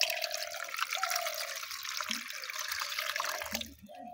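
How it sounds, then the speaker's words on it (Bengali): Water runs steadily from a tap to wash olive leaves, a soft continuous splashing stream with a few small drips and trickles, fairly quiet and close. "তারপরে আমি এটাকে একটু এখানে জল দিব।"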